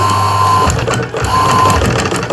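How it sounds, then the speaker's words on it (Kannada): A sewing machine stitches the folded hem of a fabric bag, a loud, close, continuous motor whir with a brief dip in speed partway through before running on steadily. "ಈ ರೀತಿ ಸಣ್ಣ ಮಡಚಿಬಿಟ್ಟು ಹೊಲಿಗೆ ಹಾಕಬೇಕು"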